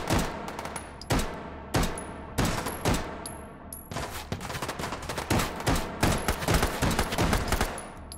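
Rapid bursts of gunfire in the VR shooter Hot Dogs, Horseshoes & Hand Grenades, loud and close, with sharp cracks in quick succession followed by denser rattling volleys.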